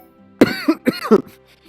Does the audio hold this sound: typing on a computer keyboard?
no